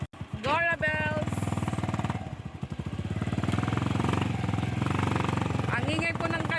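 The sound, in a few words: motorcycle engine warming up, running loudly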